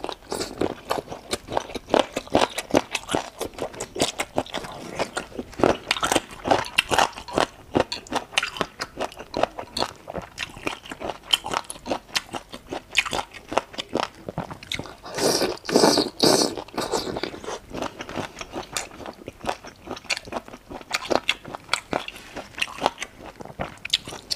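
Chicken feet are bitten and chewed up close in an ASMR mukbang, producing continuous crunchy bites, wet smacks and crackling cartilage in an uneven rhythm throughout.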